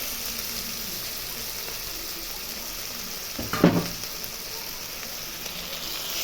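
Onions stir-fry with spice paste and water in a pan, giving a steady close sizzle with one brief louder scrape and clatter of stirring midway.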